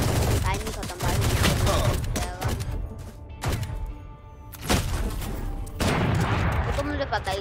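Gunfire in the video game Valorant, loud cracking shots in quick bursts and single reports spread across several seconds, with a voice speaking in between.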